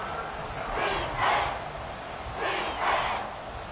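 Stadium crowd in the Madden 24 football video game swells in two broad waves of roaring noise over a steady background din, loud and continuous with no clear talk.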